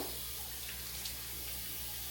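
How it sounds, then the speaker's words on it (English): Faucet water runs steadily over a plastic veggie chopper being rinsed in a kitchen sink, a constant close hiss and splash with a few faint clinks, no talking. "So we need to rinse this thing off right quick."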